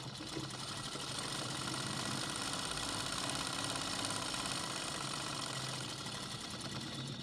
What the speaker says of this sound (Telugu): ఇప్పుడు ఈ కుట్టు చిన్న పాదం కుట్టేద్దాం. కాలర్ మీన కుట్టు చిన్న పాదం వేద్దాం.